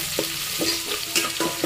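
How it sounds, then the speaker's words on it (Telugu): Onion, two green chilies and curry leaves fry in a pan with a steady close sizzle, broken by rhythmic scraping stirs about every half second, no voices. "ఇప్పుడు దీంట్లోకి ఒక ఉల్లిపాయ, 2 పచ్చిమిరపకాయలు, కొంచెం కరివేపాకు వేసుకొని ఫ్రై చేసుకున్నాం."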